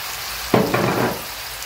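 Onions, garlic and pepper hitting a hot pan with a sudden loud sizzle that settles into steady frying, close and alone.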